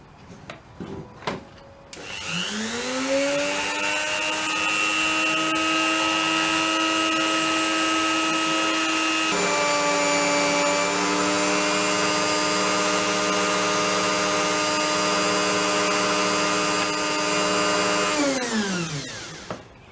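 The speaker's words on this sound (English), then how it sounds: "now I've just got to drill a hole and set the bale" A small electric drill boring a hole in Australian jelly opal spins up and whines steadily for a long stretch, its pitch dipping briefly midway, before winding down; a few clicks precede it.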